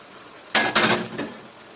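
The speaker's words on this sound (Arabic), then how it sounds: "اقلبها تقليبه بسيطه كده" Peppers and onion in a pan, stirred with a utensil: a few short clattering scrapes of metal against the pan in quick succession near the middle, close and fairly loud, with no talk.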